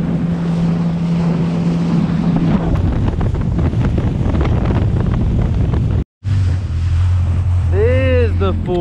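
A jet ski cruises on the sea off Auckland, New Zealand: a loud, steady engine roar with heavy wind buffeting the microphone throughout, briefly cutting out midway.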